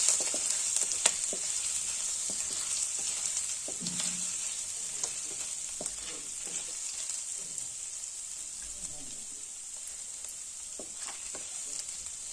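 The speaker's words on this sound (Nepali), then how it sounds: "एकैछिन फ्राई गर्ने।" Finely chopped ginger fries in a pan for a sabudana and potato dish, giving a steady bright sizzling hiss with occasional scraping stirs throughout and no talking.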